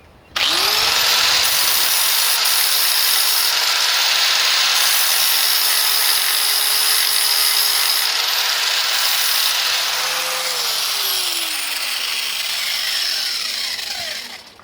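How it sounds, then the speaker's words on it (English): Small hole on a Toyota Starlet body being welded up, a continuous close, loud buzzing hiss with a steady tone holding for over ten seconds after a brief start, with no talking. "Just welding this up."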